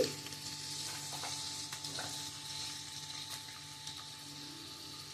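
Onion, ginger and garlic frying in a pan, with a steady quiet sizzle and occasional stirring taps, no talking.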